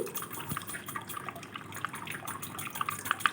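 Water stirred into a spoonful of wheat flour to make a batter, with soft wet clicks and small liquid drips, close and quiet.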